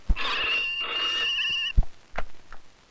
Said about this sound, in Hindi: फोन उठा लो।